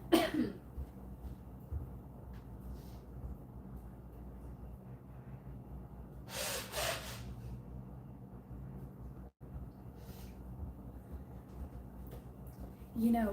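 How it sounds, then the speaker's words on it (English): A person gives a single short, breathy nose blow partway through a quiet stretch with faint low room hum. "Hold on one second, y'all. I gotta blow my nose."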